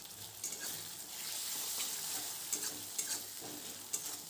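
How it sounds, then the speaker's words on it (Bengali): Ginger and dry chili paste fry with browned onions on high flame, producing a steady sizzle broken by several sharp spatula scrapes and knocks against the pan. "যতক্ষণ না আদার কাঁচা গন্ধটা যায় ততক্ষণ ভালো করে হাই ফ্লেমে কষিয়ে নিতে হবে"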